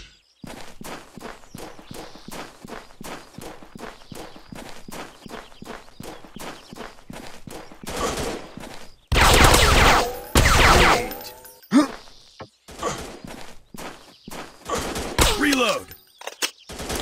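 Gunfire in the mobile shooter game Real Commando FPS Shooting: a long run of sharp, evenly spaced shots, with louder bursts of blasts and impacts in the middle and near the end.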